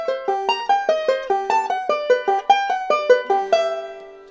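Banjo picking a rapid five-note roll lick, bright plucked notes in a steady repeating pattern, close and clear, ending on a ringing decay.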